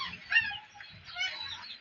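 Red and white hens and roosters clucking close by, short soft clucks in two bursts with low background rumble.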